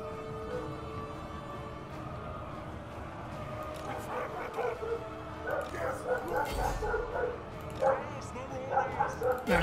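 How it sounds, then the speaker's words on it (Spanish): A dog barks and yips repeatedly in the background, a series of short uneven barks growing more frequent, mixed under ongoing talk. "por el ladrido del perro"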